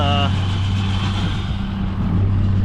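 A farm tractor's engine drones steadily at low pitch while it pulls a baler through a field, the heavy rumble constant and close throughout.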